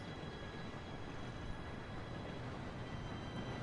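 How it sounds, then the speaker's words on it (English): A train approaches in Red Dead Redemption 2, a faint, steady low rumble with a continuous rolling wash and no voices over it. "Okay, here the train comes."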